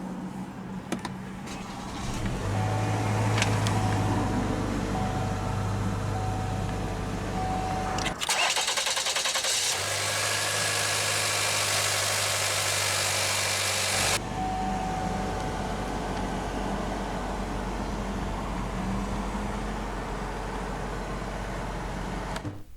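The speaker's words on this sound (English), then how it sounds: "let's go ahead and start the engine" A 2020 Cadillac XT4 Premium Luxury AWD engine cranks via push-button start and catches, then settles into a steady idle, with a broadband rush and low hum continuing throughout.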